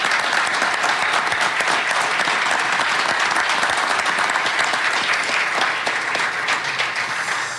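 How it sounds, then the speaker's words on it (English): A press-conference crowd applauds Rafael Devers, the newest San Francisco Giant, with loud, dense, sustained clapping that carries on evenly throughout. "I'm going to give him a round of applause."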